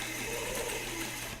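A secondhand sewing machine, traded for on Craigslist, stitches fabric with a steady, continuous whir at close range, with no talking.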